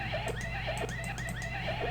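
Horse in a video game giving repeated short, faint neighing whinnies in a quick rhythmic pattern over a steady low background hum.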